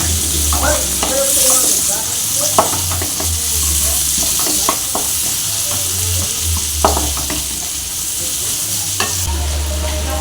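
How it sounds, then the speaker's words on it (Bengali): Chopped onions and green chilies sizzle in hot oil with a loud, steady frying hiss close up, broken by periodic scraping knocks of stirring against the pan. "তো আমি দুটো মাঝারি সাইজের পেঁয়াজ কুচি রেখেছিলাম ছোট ছোট করে কেটে, আর কাঁচা লঙ্কা কুচিটা দিয়ে দেবো এর মধ্যে।"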